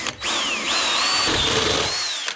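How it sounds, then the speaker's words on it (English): A power drill bores through metal mower brackets for a Toro Timemaster 30-inch fuel tank modification, with one continuous whining, wavering burst of about two seconds, loud and close and without talk. "I'm now gonna drill through and get those all bored out."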